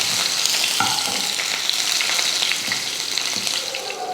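Crushed garlic, mustard seeds, urad dal and curry leaves fry in hot oil with a continuous close sizzle, broken by faint scrapes and clinks of stirring.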